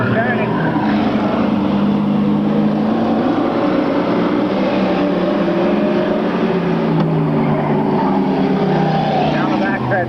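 Stock cars roaring down the backstretch bumper to bumper on the final lap of a short-track race, a loud continuous engine drone with shifting pitch, heard under a track announcer's commentary.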